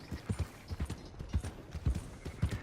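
A horse's hooves in the video game Red Dead Redemption 2 clop in a steady, even walking rhythm, close and moderately loud, with no speech over them.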